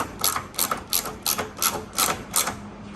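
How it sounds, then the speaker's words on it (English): A 3/8-inch ratchet turns suspension bolts on a 1987 Honda CRX, giving eight evenly spaced bursts of crisp clicking close to the listener with no talk. "I'm just using a 3/8 ratchet, not a 1/2 inch."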